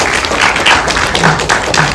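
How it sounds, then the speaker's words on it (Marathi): An audience applauds child performers at a Maharashtra Day celebration held by a Marathi community, with dense, steady clapping from many hands throughout and faint voices mixed in. "सगळ्यांनी टाळ्या द्या त्यांच्यासाठी"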